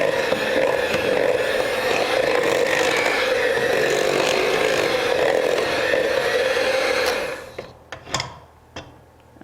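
An electric mixer runs on high through cupcake batter with a steady, loud motor whine for about seven seconds, then cuts off, leaving a few clicks and taps of the bowl.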